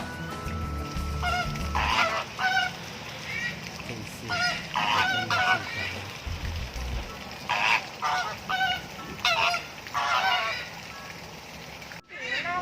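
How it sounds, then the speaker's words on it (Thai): Ducks and geese at a Thai garden cafe with flamingos and rabbits, honking and calling in repeated bursts, fairly close, over steady outdoor background noise. "เป็ดด้วย"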